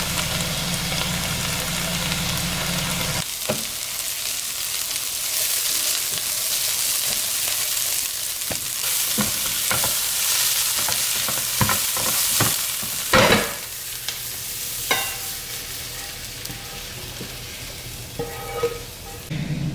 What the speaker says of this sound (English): as the pan is sizzling